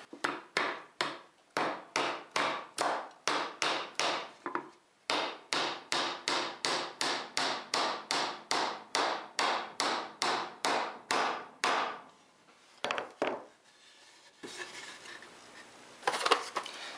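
A rapid, steady series of sharp hammer blows nailing a wooden birdhouse roof, dozens in a row with a brief pause midway, then a few scattered knocks and rustling.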